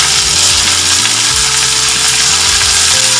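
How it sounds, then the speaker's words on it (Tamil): Garlic chutney ingredients, including garlic, tamarind, salt and asafoetida, sauté in a hot pan with a loud, constant sizzle and occasional scraping stirs, close up and without voices. "எல்லாத்தையும் நல்லா வதக்கிக்கோங்க"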